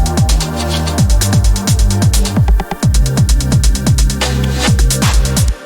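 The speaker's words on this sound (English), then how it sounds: "that is it for the 909 hi-hat" 909 hi-hat riding a busy electronic drum groove with kicks and snares, steady bright ticks running throughout, loud and alone with no talking.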